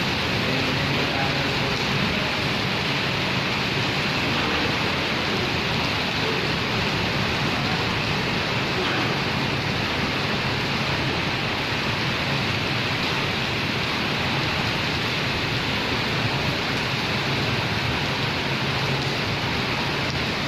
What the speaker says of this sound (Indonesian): Hujannya deras banget nih.